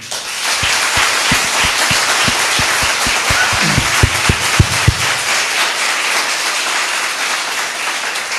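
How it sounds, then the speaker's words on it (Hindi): Audience at a devotional gathering clapping hands in a steady, evenly spaced rhythm for about five seconds before stopping, over a constant wash of room noise. "कुछ तालियां ऐसे पीट रहे हैं जैसे लगता है कि उनके ऊपर बहुत बड़ा बोझ है"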